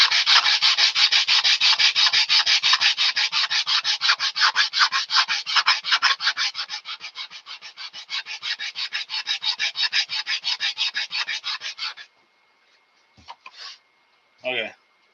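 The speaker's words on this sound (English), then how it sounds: "I wonder if my sandpaper is going to get wore out." Wood is sanded by hand with sandpaper in rapid, even back-and-forth rasping strokes, loud and close, running continuously before stopping into near silence with a few brief knocks.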